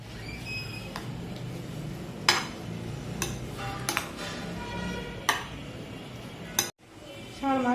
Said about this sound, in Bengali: এখন আমি সব দিয়ে মাখিয়ে নেব।